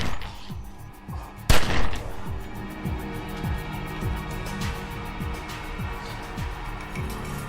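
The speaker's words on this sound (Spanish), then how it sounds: "Y le disparó 2 veces en el torso." Gunfire rings out in a staged crime reenactment: a loud sharp shot stands out over a rhythmic mechanical background, followed by further repeated impacts at a steady pace, with no talking.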